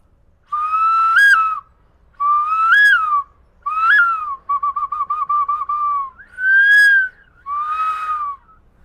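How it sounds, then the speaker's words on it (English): An ancient Mayan whistle from Lake Atitlan, Guatemala, blown high and clear in six separate tones, each about a second long with brief gaps, one fluttering trill in the middle, loud and close. "this ancient instrument is from Guatemala, from Lake Atitlan. Very old, a Mayan whistle."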